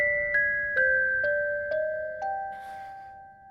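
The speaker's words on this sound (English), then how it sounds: "it hits the ground and shatters, playing its chime one last time" Delicate melodic chime from a pocket watch in an anime scene, six clear bell-like notes struck one after another at an even pace, ringing on and fading softly, followed by a faint shattering shimmer.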